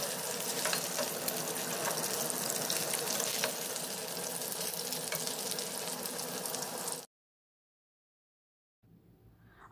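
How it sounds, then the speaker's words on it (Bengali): Pakoras fry in hot oil for a chilli chicken recipe, giving a loud, steady crackling sizzle for about seven seconds, then a short silence before the sizzle returns. "তো একটু ধৈর্য নিয়েই পকোড়াটা ভাজতে হবে।"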